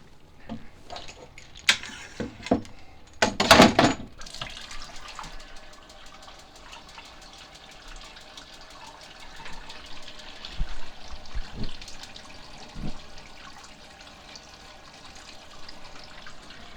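Water flushes through an on-demand water heater during descaling, a low steady trickle and rush broken by a few sharp knocks and a loud gurgling surge early on.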